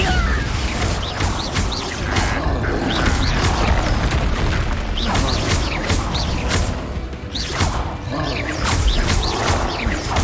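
Bombarda and Confringo spell blasts in the game Hogwarts Legacy: repeated loud impacts and crashing bursts at an irregular rhythm, close and busy throughout.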